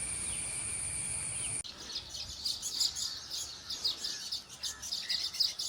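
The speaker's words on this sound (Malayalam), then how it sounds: "ഏഷ്യൻ ഗ്രീൻ ബീ ഈറ്ററിനെ മലയാളത്തിൽ വിളിക്കുന്നത് നാട്ടുവേലിത്ത എന്നാണ്" Asian green bee-eater calling, a run of thin high trilling chirps repeated in quick bursts at moderate distance, following a steady high insect-like drone that stops abruptly.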